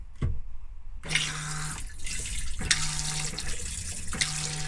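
Water runs from a Thetford cassette toilet bidet tap fitted in a Hobby touring caravan, a steady close hiss that starts after a soft click and keeps flowing, with no talking.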